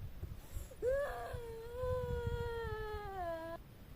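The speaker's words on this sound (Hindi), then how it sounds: "रोने की आवाज है" A long, wavering high-pitched wail rises and slowly falls over a few seconds, like someone crying or moaning, with faint background noise.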